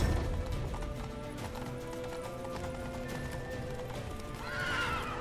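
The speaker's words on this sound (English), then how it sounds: "Nice, running to the dude with my horse." A horse in The Witcher 3 gallops with steady rapid hoofbeats and neighs, the game's hooves and whinny heard clearly at moderate volume without speech.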